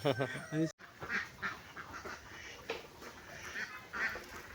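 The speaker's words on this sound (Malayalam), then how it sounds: "അതാണ് നമ്മുടെ താറാവ് അല്ലേ" A flock of about eighty domestic ducks quacks and honks in scattered calls at mid distance, with a voice talking over the birds at the start.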